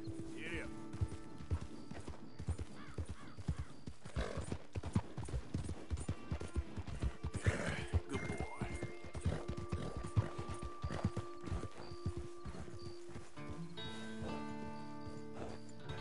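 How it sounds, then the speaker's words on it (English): Horse hooves clip-clop steadily in the Red Dead Redemption 2 video game, a close rhythmic trot with occasional whinnies and a faint patter like rain, while someone talks over it. "This is a really nice horse."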